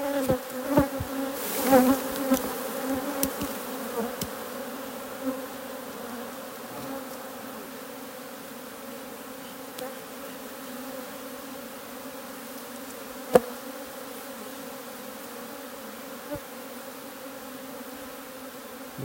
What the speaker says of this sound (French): je crois que tu as une abeille sur la tête